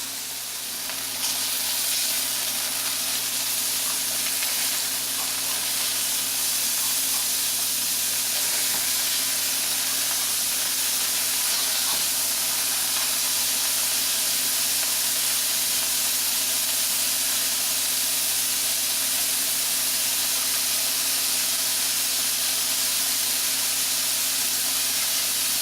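Burger patties for pimento cheeseburgers sizzle steadily on a hot cooking surface, a dense continuous hiss and crackle held close and loud throughout with no voices.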